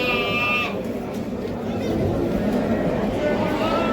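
Sheep and lambs bleating at a busy livestock market in Taraz, several loud close bleats over crowd chatter while people bargain and talk nearby.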